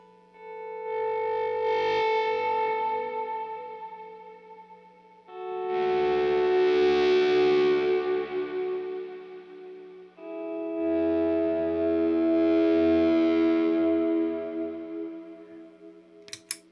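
Electric guitar run through a pedalboard with a Deco, heavy reverb and chorus, played in three sustained swelling phrases with long shimmering tails, loud and alone, ending in a few sharp clicks.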